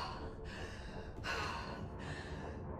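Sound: character gasping for breath in Wolfenstein II video game

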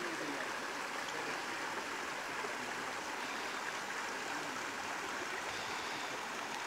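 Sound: spring water flowing out

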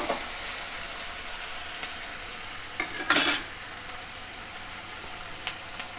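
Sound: onions and tomatoes frying and being stirred in a pan

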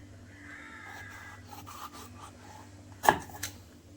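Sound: scraping the skin off a vegetable for avial

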